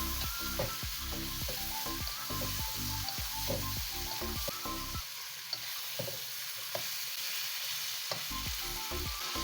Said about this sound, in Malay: Masukkan sotong yang dah dicuci bersih tadi tu ya. Gaulkan rata biar kena bawang semua tu ya.